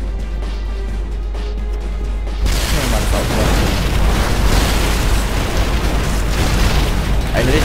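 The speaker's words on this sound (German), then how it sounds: "Bringt die das Haus in die Luft?" A house blows up in the Red Faction Guerrilla video game: after a low hum, a sudden loud blast bursts in and rumbles on as dense, sustained debris noise to the end.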